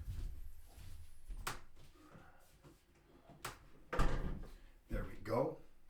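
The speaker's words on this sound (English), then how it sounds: "let me close the office door." An office door being shut indoors: a few sharp knocks and thuds spread over several seconds, moderately loud against a quiet room background.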